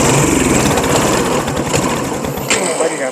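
A small engine runs loudly and close after a carburetor repair, a steady buzzing drone with rapid firing pulses throughout.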